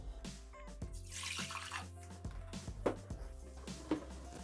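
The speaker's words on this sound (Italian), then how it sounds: "mettiamo all'interno del boccale l'acqua" Water is poured into a Thermomix bowl in a kitchen, a close splashing and trickling stream with a few drips and clinks, no voices.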